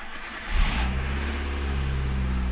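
A 2004 Kia Picanto engine cranks briefly and catches on the first try, then settles into a steady, close idle hum.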